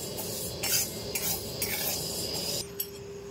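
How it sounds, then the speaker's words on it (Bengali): Sago pearls being lightly dry-fried and stirred in a wok, with a soft continuous sizzle and scraping of a spatula against the pan, quiet and close, with brief louder scrapes and no voices. "আমি সাবুটাকে ভেজে নেব, তার জন্য দেখুন কড়াইতে দিয়ে দিয়েছি।"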